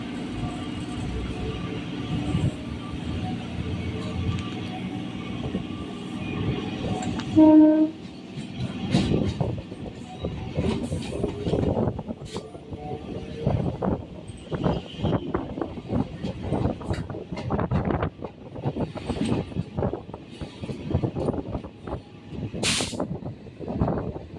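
Local train departing on the Sealdah to Barrackpore line, a steady rumble with a short horn toot, then rhythmic clattering wheel knocks as it picks up speed, with a brief high squeal near the end.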